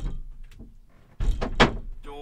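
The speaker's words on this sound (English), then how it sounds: "Door open" A door opens at home: a sharp clunk of the latch, then a short creak and rattle, fairly close, after a quiet stretch with soft background noise.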